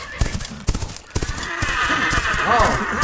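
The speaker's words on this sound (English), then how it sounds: "Oh, that trotting horse." Hooves clop in a quick trotting rhythm at first, then a horse whinnies loudly with a wavering, drawn-out neigh.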